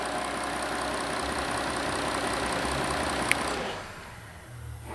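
A 6.0 V12 TDI diesel engine, removed from its car, idles with a steady, dense rumble, then the sound drops away sharply near the end, leaving a quieter low drone.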